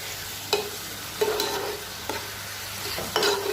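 Potatoes with spices sautéed in a pan, stirred with four distinct scraping strokes over a soft, steady sizzle, close up with no talking.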